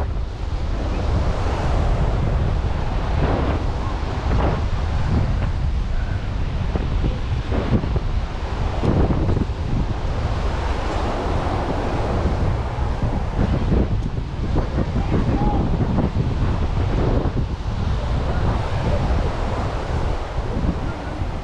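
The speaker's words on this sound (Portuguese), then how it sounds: "só escuta as jangadas rangendo aí e o barulho do mar" Sea waves wash steadily onto Pajuçara beach in Maceió, a continuous loud roar of surf mixed with strong wind buffeting the microphone, with no speech.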